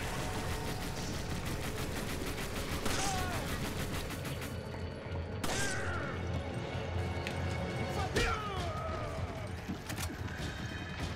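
Enemy gunfire in Resident Evil 5 crackles in repeated bursts over a dense, busy game soundscape, with players talking over the shots throughout.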